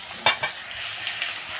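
Tomatoes fry in a pan for Tangra fish chorchori, a close sizzle broken by a sharp clatter of a stirring utensil and a few lighter knocks.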